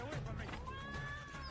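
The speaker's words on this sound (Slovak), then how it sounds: "Mačky, kočičky." Cats meow in a horror video game, a few drawn-out, wavering cries that rise and fall and sit among other game sounds at moderate level.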